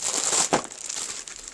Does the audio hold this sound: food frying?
no